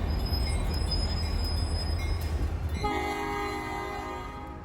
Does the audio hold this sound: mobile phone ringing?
no